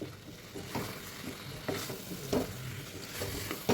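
Chicken pieces are stirred in a pan of hot oil, a continuous sizzle broken by a few sharp scraping stir strokes at irregular intervals, close and moderately loud with no talk.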